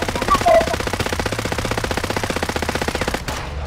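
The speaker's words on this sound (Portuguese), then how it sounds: "Muito tiro" Sustained rapid machine gun fire in a Call of Duty match, a dense and loud continuous burst close up that stops abruptly near the end.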